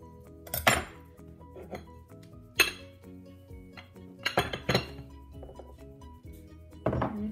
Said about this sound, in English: Take a knife and scrape around the edge.